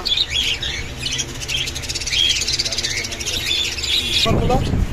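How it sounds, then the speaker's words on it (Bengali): Many caged pet birds in a shop chirp and tweet together in a dense, continuous chorus, close and loud, with a brief voice near the end. "দেখেন পাখির সমারোহ"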